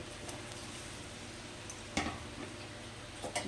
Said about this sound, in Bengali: ঝোলটা ফুটে উঠেছে এবার আমি এগুলো এর মধ্যে সব দিয়ে দিচ্ছি